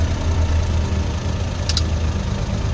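A Suzuki DA63's K6A engine keeps idling with the key switched off, a steady, close, low-pitched hum with one faint click partway through.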